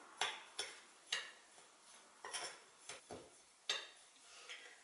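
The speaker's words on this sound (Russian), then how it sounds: "Все хорошенько перемешиваю." Vanilla pudding mix stirred in a bowl, a utensil knocking and scraping against the sides in about a dozen uneven, quiet strokes, close with no talk.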